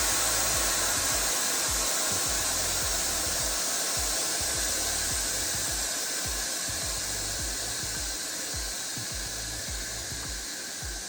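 Steady, loud rush of compressed air hissing out of truck tires as they are aired down through an onboard air panel, a continuous broadband hiss with a low rumble underneath, no voices.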